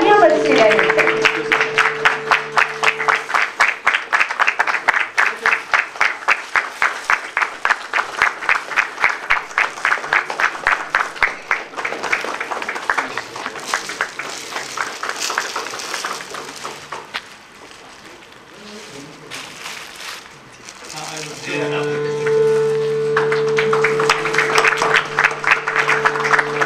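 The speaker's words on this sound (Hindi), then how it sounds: "तालियां बजती रहें।" Sustained audience applause at a Raza Foundation arts event, as performers are honoured on stage; dense, steady clapping from a crowd that dips briefly in the middle, then swells again, with a voice over it at times.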